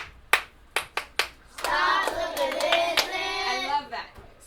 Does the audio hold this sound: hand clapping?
yes